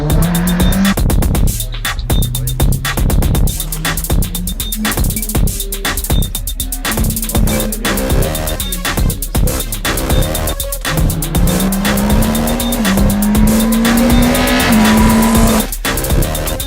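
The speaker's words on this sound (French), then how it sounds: "Cyril Raymond est le 5e et dernier pilote à s'élancer dans cette finale" A Formula race car in the 2012 Euroformula final, revving hard and setting off on the track: a loud, close engine rising through the gears with tire squeal, and no voices.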